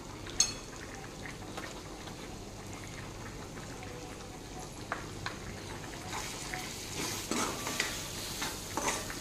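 A mushroom mixture cooks on low heat in a pan while being stirred, with a soft continuous sizzle and occasional light scrapes and clicks, close and quiet.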